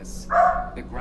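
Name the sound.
dog barking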